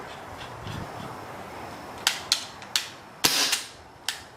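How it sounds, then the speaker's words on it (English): Six sharp unsuppressed airsoft shots ring out one after another, each a loud crisp snap with a short tail, spaced unevenly over a few seconds against faint background noise. "How loud is the 303 with and without the suppressor? 3 shots with and 3 shots without."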